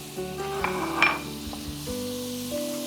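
Two tablespoons of butter sizzle in a hot cast iron skillet, a steady close hiss with a brief metallic clink partway through and a low background hum.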